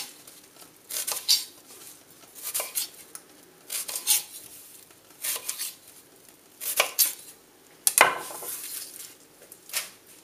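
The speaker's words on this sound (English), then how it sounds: "Okay, so we go with 2 onions. Gonna top and tail them." A knife topping and tailing two onions on a chopping board, with a series of separate sharp knocks and scrapes coming in irregular bursts, close and fairly quiet.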